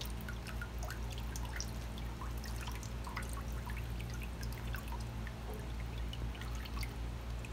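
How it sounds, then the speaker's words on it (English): Whey dripping and trickling steadily from a twisted cheesecloth bundle of fresh cheese curds, a continuous close liquid patter of small drops with no talk. "I want to gather my cheesecloth and kind of give it a twist."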